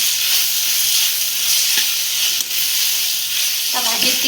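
Jackfruit pieces sizzle steadily while being sautéed for a jackfruit biryani, a continuous close hiss of frying with faint stirring clinks near the end.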